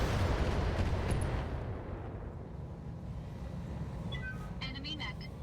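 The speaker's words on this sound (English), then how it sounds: "Oh, with an ammo explosion." A mech's ammunition cooks off in an explosion during a BattleTech battle, a loud deep rumbling blast that fades into a lower sustained roar, with brief electronic game tones near the end.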